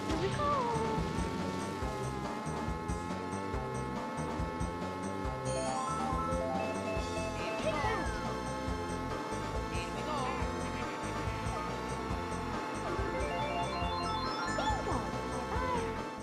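Mario Kart 64 race audio plays on a Nintendo 64 controlled with a Hori Pad Mini, a continuous bright, bouncy game soundtrack with melodic chiptune lines and effects layered throughout, steady and fairly loud.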